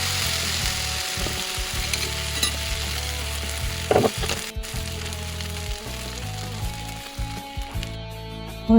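Eggs with chopped onion, green chili and coriander sizzling in a hot, oil-brushed frying pan, a close steady crackle with a few clattering knocks of utensils partway through.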